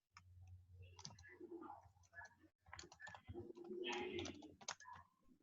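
Someone types on a computer keyboard during a basic computer class, producing scattered quiet clicks over a fairly busy background.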